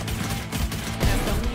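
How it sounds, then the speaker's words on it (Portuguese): Gunfire in an online shooter video game, a burst of sharp, rapid shots at moderate loudness with no talk over it. "Um tiro."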